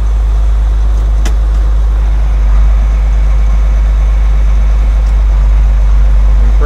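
A John Deere 4440 tractor engine runs steadily, a loud continuous low rumble close by with a slight rise in level partway through, no voices over it.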